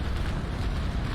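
Cannon broadside from a sailing warship in the naval combat game Naval Action, a dense continuous low roar of gunfire and blast rumble across the whole moment, loud and close with no talking.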